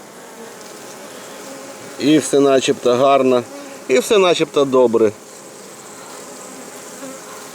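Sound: honeybees buzzing at the hive

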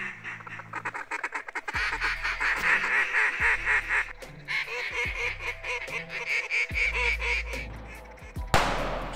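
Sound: duck calls quacking

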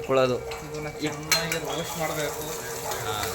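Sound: onions being roasted and stirred in a pan

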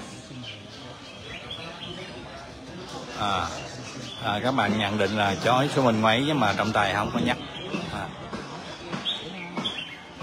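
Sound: songbirds singing in a bird-song contest

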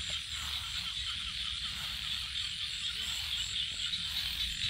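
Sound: frog croaking at night in rural Cambodia

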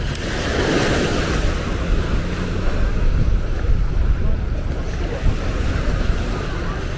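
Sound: sea waves breaking on shore at Patong Beach, Phuket, high tide

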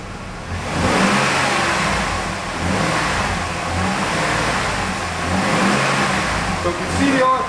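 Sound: car engine revving

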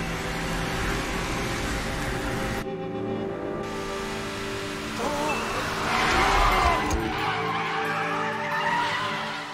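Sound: Lancer Evo IV drifting with tire squeal, anime

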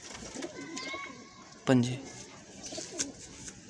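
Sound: pigeon cooing

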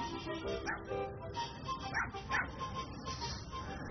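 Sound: dogs barking while chasing a vulture

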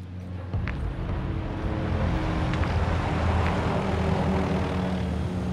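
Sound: aircraft flying overhead in Call of Duty video game

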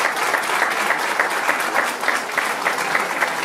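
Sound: audience applause

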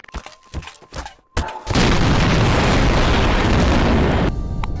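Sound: bomb exploding in video game Garry's Mod

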